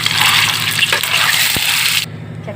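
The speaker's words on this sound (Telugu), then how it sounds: "ఇప్పుడు ఆయిల్ ఎక్కిందండి గుడ్డు వేస్తున్నాను బంగారు కలర్లో రావాలి" Boiled eggs fry in hot oil with a loud, close, dense sizzle that holds steady for about two seconds, then suddenly drops to a much quieter hiss.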